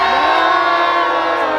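A dense crowd at Lightbox Expo screams and cheers together in one loud, continuous burst of mixed voices.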